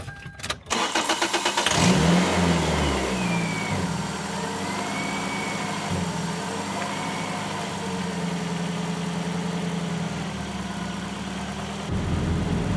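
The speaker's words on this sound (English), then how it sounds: "Let's start the car." A car engine cranks and catches, revving up before settling into a steady idle that rumbles on close by, before a drive to Mt. Charleston.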